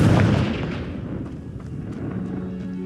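A Confringo fire spell in Hogwarts Legacy goes off as a single booming blast followed by a fading crackling rumble.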